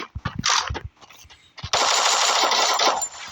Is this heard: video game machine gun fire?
yes